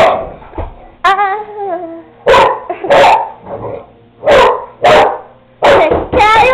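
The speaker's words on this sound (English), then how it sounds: "dog freaking me out" A dog barks in short loud bursts, several separate barks with whimpering, high yips and growl-like tones between them, close to the recorder in a tense dog fight.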